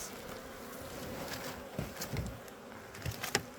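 A swarm of honey bees buzzing at an apiary during a package bee transfer, a steady close hum with a few sharper knocks and bumps near the end, no voices.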